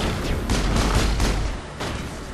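Pistol gunfire from the video game Mass Effect crackles in dense, overlapping bursts, with several loud shots and booms piling up over about two seconds and no talking.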